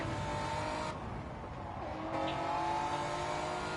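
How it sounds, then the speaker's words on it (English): Tyres squeal on a race car in a racing video game, a sustained high whine over a loud, steady engine drone, with engine noise persisting throughout and no voices. "I heard squealing tyres"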